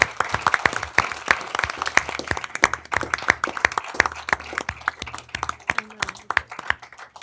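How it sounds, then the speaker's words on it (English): A modest council meeting audience claps for a newly promoted police sergeant and captain, the individual hand claps sharp and distinct, irregular and fairly close, with a low hum beneath. "if we could get another round of applause to our new sergeant and new captain"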